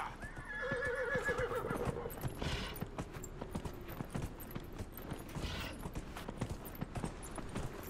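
A horse whinnies loudly in Dragon Age Inquisition, its wavering neigh rising near the start, followed by steady clip-clop hoofbeats galloping on through a busy game soundscape.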